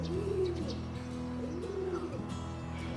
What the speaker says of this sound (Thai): จะได้ยินเสียงนกนะ เป็นนกพิราบนะครับ